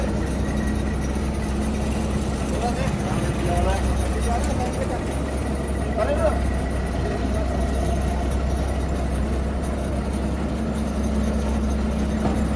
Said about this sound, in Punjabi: ਮੱਕੀ ਕੱਟਣ ਵੱਡੀ ਕੰਬਾਈਨ